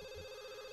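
Telephone ringing in The Sims 2 life-simulation game, a steady electronic ring tone held through a short moment at moderate level, with no talk over it.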